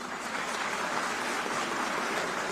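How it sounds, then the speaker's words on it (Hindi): Dense, steady applause from an audience after a college of fine arts dance performance at a women's day event, a continuous clapping wash throughout, with no talking. "जोरदार तालियां इनके लिए।"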